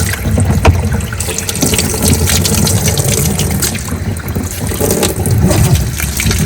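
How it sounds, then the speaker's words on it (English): Running tap water fills the space with a steady, continuous gush at close range, a little cooler than room temperature, used to rinse bedding particles out of an enclosure. It flows without pause and without talk. "I'm going to run the water first"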